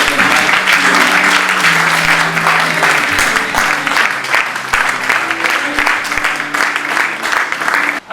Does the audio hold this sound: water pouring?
no